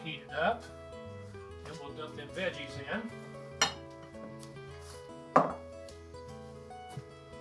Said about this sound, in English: we're going to dump all this on top of the meat and stir it up again.